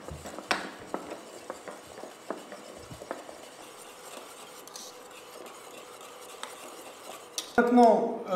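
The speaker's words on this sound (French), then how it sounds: "je vais rajouter le beurre coupé en dés sur la crème encore chaude. Donc tout d'un seul coup, et je vais la mélanger." Diced butter whisked into hot lemon cream for macaron filling, heard as quiet scattered clinks and scrapes of a utensil against a bowl, ending in a brief louder clatter.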